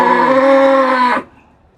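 A native bull at a crowded cattle market gives one loud, sustained bellow that holds steady for about a second before cutting off abruptly.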